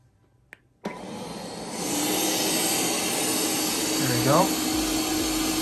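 A ZOOZEE Z50 robot vacuum cleaner switches on in manual mode and drives forward, its motor kicking in abruptly, then holding a loud steady whine and whoosh, with someone speaking briefly.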